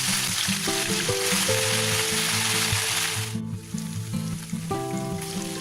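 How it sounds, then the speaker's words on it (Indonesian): Chicken pieces frying in hot oil over medium heat give a loud, steady sizzle throughout, briefly dipping midway, with background music playing underneath. "Goreng di minyak panas dengan api sedang saja"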